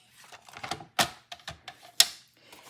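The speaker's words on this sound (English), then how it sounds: "let's cut our cardstock" Cardstock being cut for a holiday treat holder, a series of sharp crisp snips and clicks at uneven intervals, close and fairly quiet, with two louder cuts standing out.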